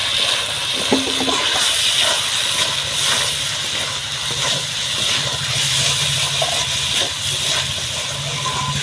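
Turmeric, chili, cumin and coriander powders frying in a pan for a fish curry, a loud, steady sizzling hiss throughout with faint scraping stirs, close up.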